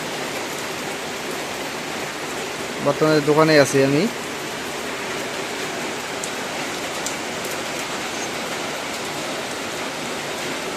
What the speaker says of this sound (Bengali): এখন হঠাৎ করে বৃষ্টি শুরু হয়ে গেল।